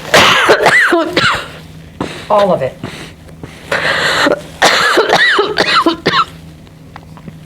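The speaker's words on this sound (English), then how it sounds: "I want you to cough out all of that water that you swallowed." A person coughs up swallowed salt water in repeated harsh bursts, mixed with gasping breaths and strained vocal sounds, while another voice speaks briefly.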